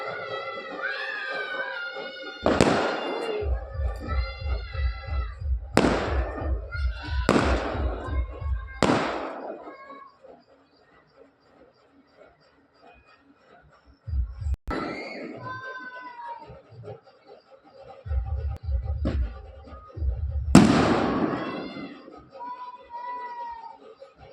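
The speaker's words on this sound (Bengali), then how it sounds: "কত ফটকা, কত বাজি ফুটলো, তোমরা তো দেখতেই পেলে।" Firecrackers and fireworks burst close by in sharp, loud cracks, several in quick succession and then scattered, with crackling rattles between them, while people talk and shout in the background.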